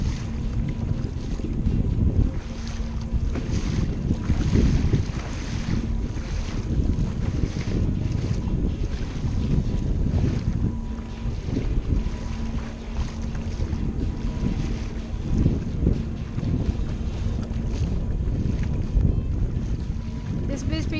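A Bixpy jet motor pushes a small boat along at fourth of about ten speeds in rough, strong wind, its steady motor hum lying beneath heavy gusts buffeting the microphone and water noise throughout.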